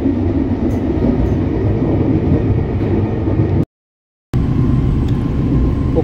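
KA Papandayan passenger train on the Jakarta–Garut line passing straight through Cikarang station, a steady loud rumble of rolling wagons with a brief dropout partway, no voices.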